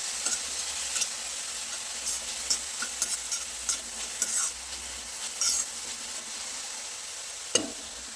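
Momo filling being stirred and mixed in a pan, with repeated scraping strokes of a spoon over a soft, continuous sizzle.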